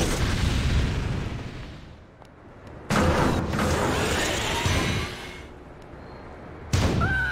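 Heavy sci-fi ion cannon blasts in a video game erupt with deep, rumbling booms and long crackling tails, followed by a shorter electronic burst near the end.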